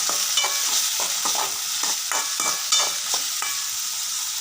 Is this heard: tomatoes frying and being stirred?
yes